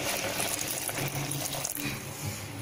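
Water is poured steadily into a pot of cooking chow chow (chayote) and moong dal, a continuous close splashing pour lasting a few seconds with no talk.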